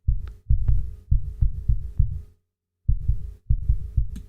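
A long, boomy 808-style kick drum lengthened in Cubase, thumping in a steady rhythmic pattern with brief clicky tops, loud and dry, pausing briefly before the pattern resumes.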